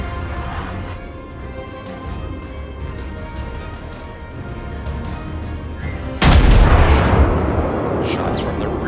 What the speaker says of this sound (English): Shots from the rear turrets out.